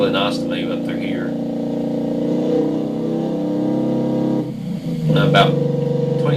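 A car engine in the Automation video game drones steadily at high revs near 3,000 rpm, a thick, throaty hum, while a person talks over it; the engine swells briefly near the end.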